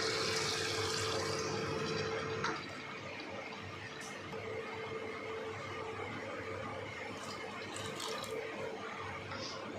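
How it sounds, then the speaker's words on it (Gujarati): Water gushes into potato curry in a pressure cooker for the first couple of seconds, a loud close rushing pour, then settles into a quieter bubbling simmer. "હવે આપણે તેમાં 3 કપ જેટલું પાણી ઉમેરી દઈશું"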